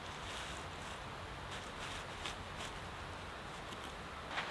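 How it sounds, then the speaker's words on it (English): Steady outdoor wind rushing past a pitched tent, a continuous soft roar with slight gusts, no voices. "it's getting a little bit breezy right now"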